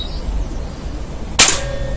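A single sharp shot from a Beeman air rifle fitted with a shroud and silencer, a brief crack with a short tail, heard once against a quiet background.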